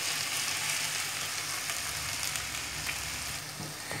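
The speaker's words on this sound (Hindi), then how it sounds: "तो हमने जो आलू अच्छे से मैश करके रख दिए थे, सारे के सारे इसमें डाल देने हैं।" Mashed potatoes go into a spiced mixture frying in a pan for a potato cheese sandwich, giving a close, even, continuous sizzle with faint stirring.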